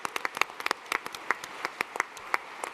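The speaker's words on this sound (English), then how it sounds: "Let's give all of our competitors a round of applause." A small audience at a startup competition finals applauds the competitors, with sparse, distinct claps at a moderate distance and no voices.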